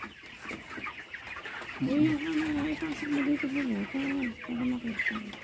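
Month-old chicks delivered from Taal, Batangas, peep and cluck in a steady chorus of high chirps, growing louder partway through, with a person talking in the background.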